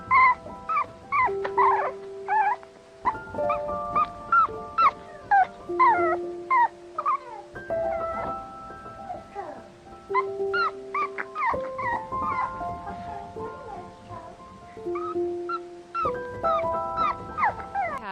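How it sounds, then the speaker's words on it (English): A dog whimpers and lets out long, rising howls and yips in repeated phrases, close and fairly loud with short gaps between bursts and no talking. "Cute dog looking up."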